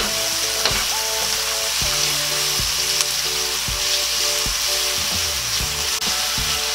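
Tomatoes fry in a pan while squid adobo is being cooked, with a constant loud sizzle and repeated wooden scraping strokes of stirring every second or so, and nobody speaking.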